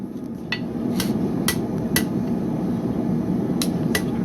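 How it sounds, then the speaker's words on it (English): A pneumatic power hammer pounds in a blacksmith forge, sharp metallic strikes in irregular bursts over a constant loud roar of machinery. "A pneumatic sledge, basically?"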